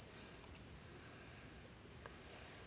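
A computer mouse gives a few faint, sharp clicks, spaced apart in an otherwise quiet room with soft background hiss.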